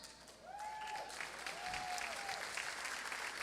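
Audience applause at a TNU volleyball senior night honoring the senior class fills a gym, steady and sustained from start to finish as a broad wash of clapping, with a few whistling tones rising over the crowd.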